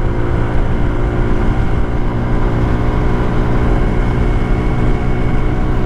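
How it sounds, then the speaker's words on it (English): An Icebear Hawkeye 150cc scooter engine runs at full throttle, giving a loud, steady, unbroken drone that holds constant through the whole stretch. "I got full throttle."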